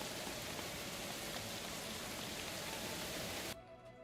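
Steady, dense rain ambience in the medieval colony-building game Going Medieval, a loud even wash of falling drops that cuts off abruptly near the end, leaving a faint quieter tail.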